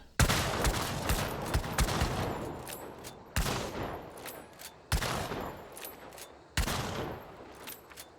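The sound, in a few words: Centennial rifle firing in the video game Hunt: Showdown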